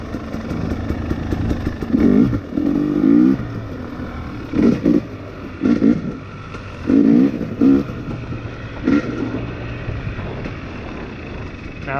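A 2020 XC250 TPI two-stroke dirt bike, 250cc, revs in repeated loud bursts while being ridden, surging and dropping back in an uneven rhythm with rough off-road clatter between throttle blips.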